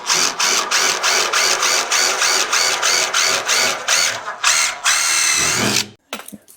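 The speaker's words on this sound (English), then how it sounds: "I'm gonna drill these from here if I can." Drilling out spot welds on a 1957 Chevy fender. A loud power drill sounds up close in short, repeated bursts, then runs in a longer grinding stretch before cutting off, followed by a few faint clicks.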